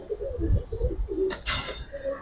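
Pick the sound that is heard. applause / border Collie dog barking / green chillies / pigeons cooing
pigeons cooing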